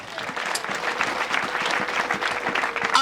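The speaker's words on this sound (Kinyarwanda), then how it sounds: "Reka dukomere Imana amashyi menshi cyane." A church congregation claps together in a dense burst of applause filling the room, steady and fairly close, for about three seconds.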